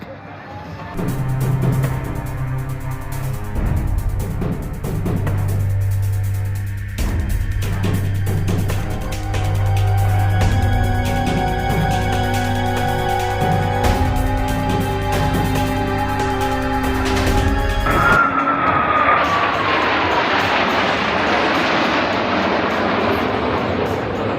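Blue Angels US Navy jets make a flat pass at 350 mph over Seymour Johnson Air Force Base: a long, loud, steady roar that shifts to a hissing rush as they pass.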